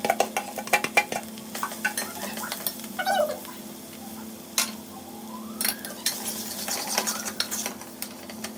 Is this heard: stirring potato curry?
yes